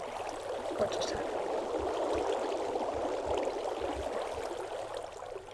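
Minecraft water flowing in a continuous rushing, gurgling stream, steady and fairly close, with no talk over it.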